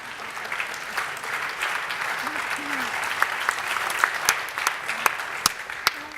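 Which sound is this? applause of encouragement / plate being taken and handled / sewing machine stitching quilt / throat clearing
applause of encouragement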